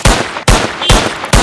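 Four loud, sharp gunshots fire at an even, steady rhythm, each with a short ringing tail, as a gun is turned on a dinosaur in the Indian Bike Driving 3D video game.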